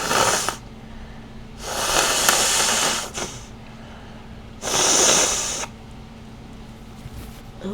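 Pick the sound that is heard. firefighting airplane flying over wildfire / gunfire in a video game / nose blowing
nose blowing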